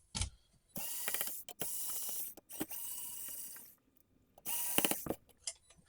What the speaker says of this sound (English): Now we're on to the T10. We've got 4 black screws right here to get to the actual hard drive.